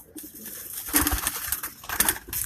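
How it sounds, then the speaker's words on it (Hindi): A pigeon coos close by in two short bursts of throaty, rolling calls, with quieter rustling between them. "पट्ठा कबूतर है जी"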